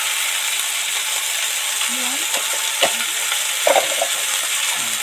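Okra, potato and tomato fry in a pan with cumin, coriander and chili powder, giving a steady, loud sizzle with scraping stirs and a few light clinks, while a voice speaks faintly now and then.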